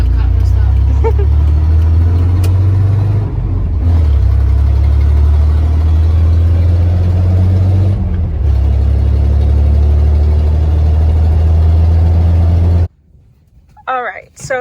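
A five-speed manual truck's engine drones steadily and close while driving, with two brief dips in the rumble before it cuts off near the end.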